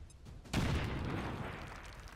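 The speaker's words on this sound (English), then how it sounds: "I just heard an explosion. And I saw your grenade bounce and blow up." A grenade blows up in the XCOM 2 video game: a quiet rumble, then a sudden loud blast that decays into a long, rolling, gritty tail of debris and reverberation, with no voices.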